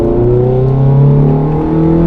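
A car accelerates hard out of a corner on the Mondello race track, its engine note climbing steadily in pitch, loud and close with no voices.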